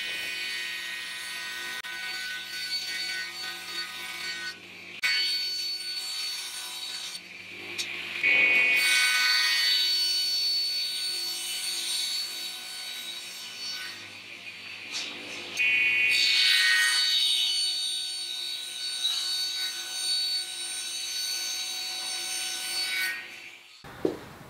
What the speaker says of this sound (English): So I'm just going to cut it like this with the top surface of the panel up on top.